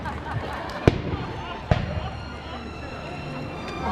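Fireworks go off at the Kings Dominion 40th birthday ceremony, two sharp distant bangs about a second apart over a murmuring crowd and ongoing background noise.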